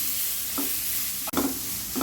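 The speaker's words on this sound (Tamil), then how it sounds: "அதை இந்த நெய்யிலேயே போட்டு வதக்கிக்கலாங்க" Grated beetroot sautéing in ghee: a steady close sizzle with a few short stirring scrapes, alone without talk.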